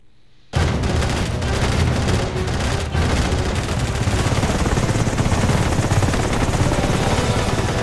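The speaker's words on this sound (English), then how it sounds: "HQ, we've got a visual on the extraction helicopter" An extraction helicopter in the SOCOM U.S. Navy SEALs Combined Assault video game thunders in abruptly and stays loud and steady, mixed with dense bursts of gunfire throughout.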